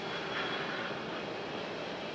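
A JetBlue airliner taxiing at Raleigh-Durham gives off a continuous, even engine drone and hiss, moderately loud and steady for the whole stretch with no voices.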